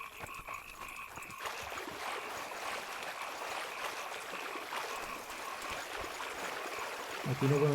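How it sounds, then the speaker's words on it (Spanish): Flowing river in The Witcher 2, a steady trickling rush of water with a croaking, frog-like ambience running throughout and a brief louder burst near the end. "El río místico."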